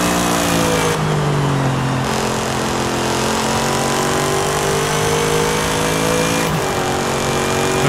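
Simulated car engine in Forza Horizon 5, a steady droning motor with rising and falling harmonic pitch as it revs and shifts, loud and continuous throughout with no talking.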